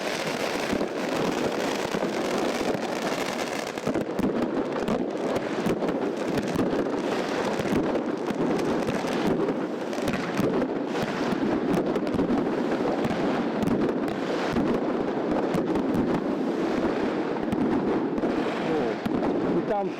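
New Year's night fireworks and firecrackers bursting over apartment blocks in Yakutsk, a dense continuous crackle and popping with echoes off the buildings from every direction, mixed with wind noise on the microphone.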